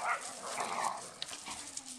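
A Caucasian shepherd puppy lets out soft, close yips and whiny barks in a quick uneven string, fairly quiet and heard without talk.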